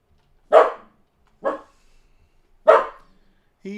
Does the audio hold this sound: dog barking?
yes